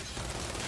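Gunfire in Gears 5 combat: a brief, dense burst of rapid shots, loud and close, with no talking over it.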